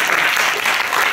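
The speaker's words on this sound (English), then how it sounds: "Round of applause for us." An audience at a stand-up comedy and puppet show breaks into a brief, dense burst of clapping, loud and close, lasting about a second.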